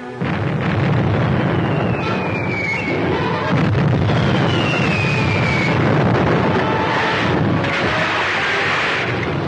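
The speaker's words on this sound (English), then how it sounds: "Torpedo fired, sir. Four torpedoes fired, sir." Four torpedoes launched from a navy vessel produce a loud, continuous roaring burst, like an explosion, with a rumbling low end and faint rising whistles, filling the whole stretch.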